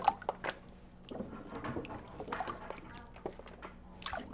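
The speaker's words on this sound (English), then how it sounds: "and then I'll let the water out." Water drains from a kitchen sink after the plug is pulled while canning carrots, giving soft gurgling, dripping and trickling sounds, faint and close, with uneven splashy bursts.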